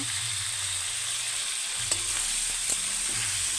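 Tomatoes with salt fry in a pan for broiler chicken curry, giving a continuous close sizzle with a couple of soft stirring knocks and no voices.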